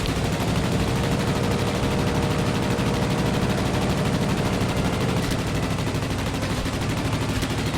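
Biplane machine guns firing in World of Warplanes, a loud, continuous rattling stream of rapid shots that holds steady for the whole stretch, easing off slightly near the end as in-game flight noise continues underneath.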